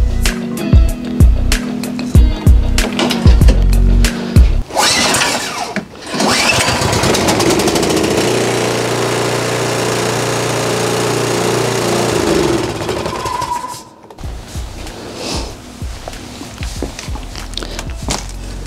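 Cub Cadet 221 LHP single-stage snow blower engine cranking on its electric starter, catching and then running loudly and steadily for several seconds before cutting off, with a few clunks and handling noises before and after.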